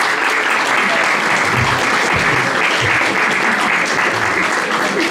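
Dense, loud audience applause following a presentation at a school, continuous clapping from many hands filling the room without a break for the full five seconds.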